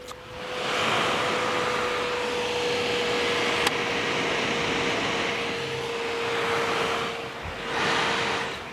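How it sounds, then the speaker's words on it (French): The cooling fan of an Alienware X51 R2 gaming PC blows loudly and steadily at close range, a broad whooshing roar with a faint constant whine that dips briefly near the end; no talking. "je sais pas si vous l'avez entendu là au micro, mais elle souffle vraiment pas mal"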